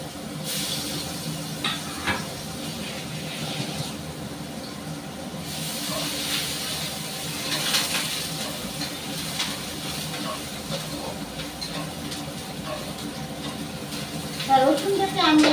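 Crushed garlic dropped into hot oil sizzles with a steady soft hiss, moderately faint, while someone talks over it; crackling grows briefly near the end.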